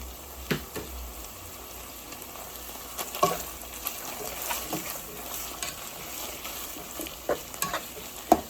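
Red onion frying in a pan for an old-fashioned American goulash, with a steady sizzle and occasional scrapes and clicks from stirring, fairly quiet throughout.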